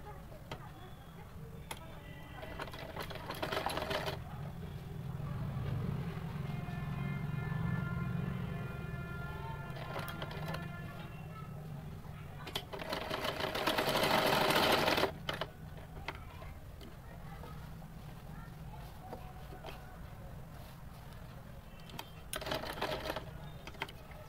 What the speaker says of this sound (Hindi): इस तरीके से मैंने इस पर सिलाई लगानी है।